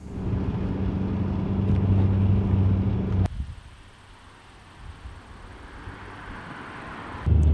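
A car driven after a sway bar installation in a field, steady engine and road rumble with wind noise that drops off abruptly midway, then a quieter cabin hum before the drone returns at the end.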